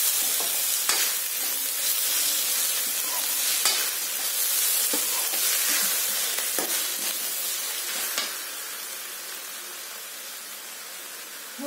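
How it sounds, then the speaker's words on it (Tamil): Egg and spring onion burji sautéing in a pan, a bright steady sizzle with occasional spatula scrapes and taps as it is stirred, close and unbroken with no voices. "இதை வந்து வதக்கிறது வந்து அடி பிடிக்காத மாதிரி இடையில விட்டு வந்து வதக்கிட்டே இருக்கணும்"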